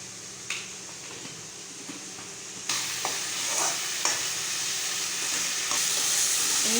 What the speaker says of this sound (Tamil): சேர்த்துட்டு கொஞ்சம் நல்லா மசிகிற அளவுக்கு வதக்கிக்கோங்க